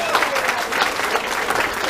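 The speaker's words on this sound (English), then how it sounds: "Let's give him a massive round of applause." Sustained applause from a club audience at a Christmas showcase, a steady dense wash of clapping that holds at even loudness for the whole stretch.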